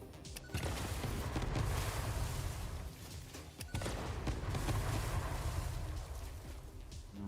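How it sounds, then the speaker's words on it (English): Rumbling in-game explosions from the factory-building game Satisfactory, a sustained dense roar of blasts lasting several seconds with a brief dip midway, loud and continuous without speech. "I don't know how you survived that first bout of explosion."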